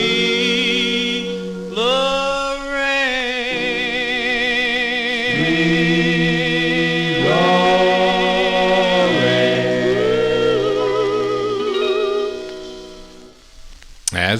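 A 1958 doo-wop 45 record plays with sustained, sliding vocal harmonies over a soft backing, steady and full throughout before cutting off at the end.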